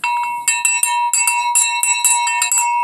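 An old, disused house bell ringing out in bright metallic strikes, about a dozen quick irregular hits that overlap and sustain with a clear ringing tone, loud and close.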